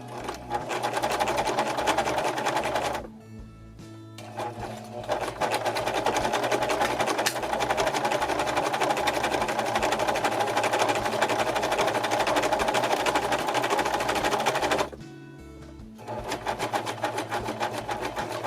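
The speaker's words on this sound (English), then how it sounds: "So I'm going to be sewing on my serger right now." A serger sewing machine runs through fabric in long, fast, buzzing runs, stopping twice briefly between bursts. The steady mechanical chatter is close and clear.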